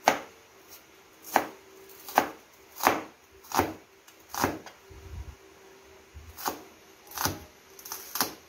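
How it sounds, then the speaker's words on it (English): Onions chopped with a knife on a cutting board for a shepherd's pie: a steady run of about a dozen crisp, close blade strikes at an even rhythm, with no talking. "Then I'll chop the onions too."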